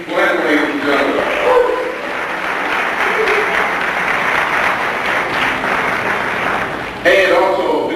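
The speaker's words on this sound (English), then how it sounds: "Let's give a nice round of applause for Mr. James Glenn, ladies and gentlemen." Audience applause for a regional vice president being introduced at a 1999 event, a steady wash of clapping filling the room from start to finish with a brief surge near the end, voices mixed faintly underneath.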